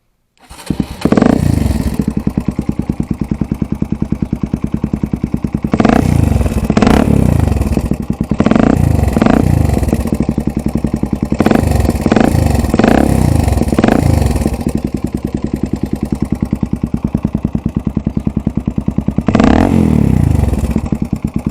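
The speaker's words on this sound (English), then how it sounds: "this is what it sounds like now" A repaired Honda NX 125 motorcycle engine runs steadily and loud, with a rough idling rumble, repeated blips of revving, and some metallic clatter throughout.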